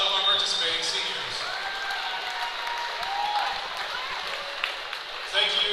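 Fans clap and cheer throughout a gymnasium for the seniors at a high school wrestling senior night, a steady, sustained wash of applause with crowd noise that swells again near the end.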